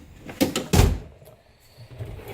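A tool drawer holding a lawnmower sharpening tool is pulled open with two close, loud clunks and a brief slide, followed by quiet room noise.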